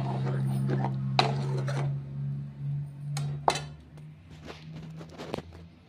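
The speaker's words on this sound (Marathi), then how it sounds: "तर याला चांगलं हलवून घेऊ।" A spoon stirring soybean curry with added water in a cooking pot, giving sparse, sharp metallic clinks against the pot over a steady low hum, with faint background noise between strikes.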